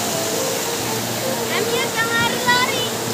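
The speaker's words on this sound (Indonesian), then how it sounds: "Sampingnya sungai." A river flows beside a park in south Bandung, giving a steady broadband rush of water that sounds close and continuous, with faint birdlike chirps over it.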